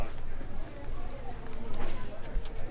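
Horse hooves clip-clop steadily at a farmer convention beneath people talking, mixed into a busy, noisy outdoor background.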